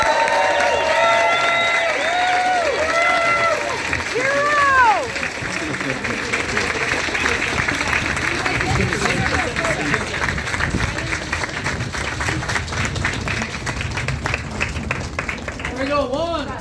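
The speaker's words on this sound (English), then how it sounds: "So please join me again with a tremendous round of applause for Brandon as representing us." A crowd gives sustained applause for an honoree at a recognition event, dense clapping with some cheering and voices throughout, steady and fairly loud.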